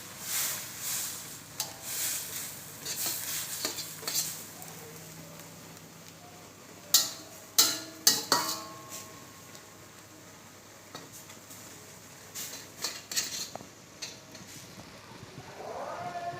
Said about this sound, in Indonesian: maka mie rebus yang ingin kita masak kita masukkan ke kuali